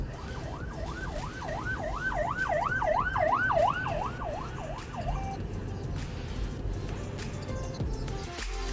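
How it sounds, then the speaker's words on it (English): An ambulance siren wails in a steady up-and-down sweep for about five seconds, heard from inside a Land Cruiser Prado on a road trip over constant road and engine rumble, then cuts off, leaving the traffic drone. "Is that an ambulance?"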